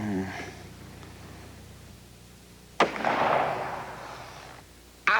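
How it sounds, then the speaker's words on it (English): Shots from a .44 pistol, two loud sharp cracks a couple of seconds apart, each trailing off in a ringing echo, with a voice heard briefly at the start. "Could you give us a little example as to what you could do with a 44 pistol?"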